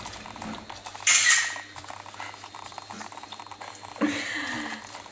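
Berry fruit sauce simmers in a pan on a stovetop, giving a soft bubbling patter with brief louder sizzling bursts and no talk.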